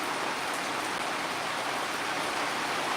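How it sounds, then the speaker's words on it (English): Steady rain falls outdoors at a resort, a soft even hiss of drops hitting surfaces that holds constant throughout, fairly close and without voices. "It's been raining a lot today."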